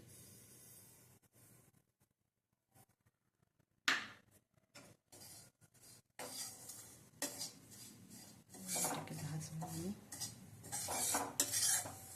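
Semolina stirred in a pan for suji halwa after besan has been roasted, a quiet scraping of spoon against pan that starts after near silence and grows busier, with light clinks and faint sizzle.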